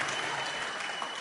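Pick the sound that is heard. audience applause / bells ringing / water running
audience applause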